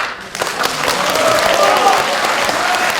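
An audience at a Confucian culture assembly and debate forum breaks into steady, loud, close clapping that fills the short stretch, with a voice faintly underneath.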